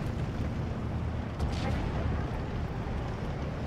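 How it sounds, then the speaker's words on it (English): Pak 50 anti-tank guns and artillery fire in the Steel Division 2 strategy game, a continuous heavy rumble of booms and distant blasts blending into a dense roar, with one slightly sharper burst midway. "Got my 3 Pac 50s firing away back here, along with all my artillery"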